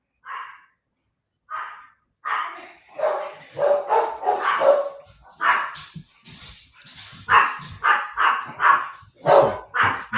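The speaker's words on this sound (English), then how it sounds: "let's be mute while the dogs bark for a second" Several dogs bark repeatedly in bursts, loud and close, with occasional yips and whimpers between barks and brief pauses.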